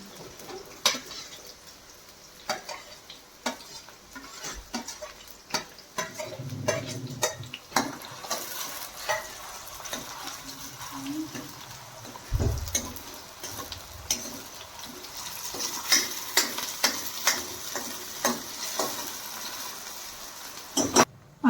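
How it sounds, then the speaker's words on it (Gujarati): Chopped tomatoes go into a pan and are stir-fried, with a soft sizzle under repeated scraping and clinking of a spoon against the metal pan, strokes coming in irregular bursts. "પછી એડ કરશું ટમેટા."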